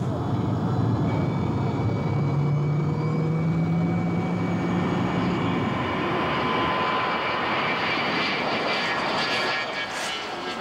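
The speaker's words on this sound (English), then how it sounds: "American 278, regional tower, runway 17 right, clear for takeoff." A jet airliner takes off from runway 17 right, its engines roaring loud and steady at close range for the whole stretch, with a rising tonal whine and broad rumble.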